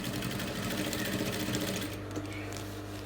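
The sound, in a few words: sewing machine stitching fabric placket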